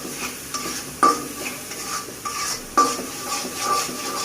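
Spice paste being stir-fried and scraped in a pan for a Bengali fish curry with water lily stems, giving close, irregular clinks and scrapes of a utensil over a low sizzle, with a few sharper knocks.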